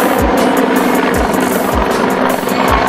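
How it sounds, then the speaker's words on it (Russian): A military helicopter takes off, its rotor beating in a loud, steady rhythmic chop with a low engine whine underneath, close and constant throughout. "На место для прикрытия тут же выезжают БТРы и вылетает вертолет"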